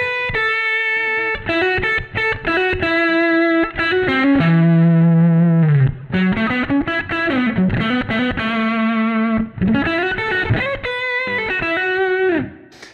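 A distorted electric guitar through a Line 6 Helix amp modeler plays a loud melodic line with sustained, gliding notes and bends, thick with overdrive and a touch of reverb.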